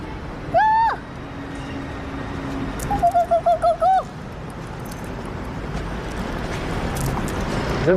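Pigeons coo in a film scene, one drawn-out call followed later by a quick series of pulsing coos, moderately close over a low background hum.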